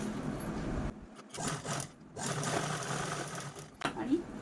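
A sewing machine runs close by, top-stitching a small piece of leftover blouse fabric with a steady mechanical whir, stopping briefly twice and then restarting, while someone talks over it.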